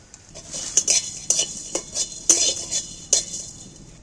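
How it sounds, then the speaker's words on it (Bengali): Coriander seeds and cardamom pods dry-roasting in a pan, stirred with a metal spoon: sharp clinks and scrapes of utensil on pan at an irregular rhythm, close and fairly loud, with no oil sizzle and no talk. "ধনেগুলো প্রথমেই দিয়ে দিচ্ছি একটু শুকনো খোলা ভালো করে একটু ভেজে নেব"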